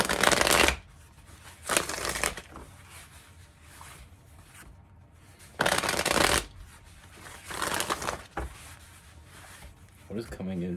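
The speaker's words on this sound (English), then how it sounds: "Universe, what do we have for Libras?" A deck of tarot cards is shuffled up close in several crisp riffling bursts spread across the stretch, some sharp and loud, others softer, with quieter handling between them.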